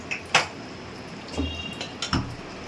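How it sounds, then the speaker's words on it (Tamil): Fish curry being moved from a clay pot into another vessel, heard as a few soft clinks and knocks of metal and earthenware with gentle liquid sounds between them, close by and fairly quiet. "மண் சட்டியில் வச்ச மீன் குழம்பு இன்னொரு பாத்திரத்துக்கு மாற்றிட்டோம்"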